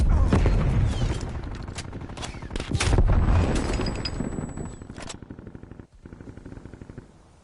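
Automatic gunfire in Call of Duty Cold War hardcore team deathmatch, loud and close: rapid bursts of shots for about five seconds, then trailing off into quieter scattered sounds.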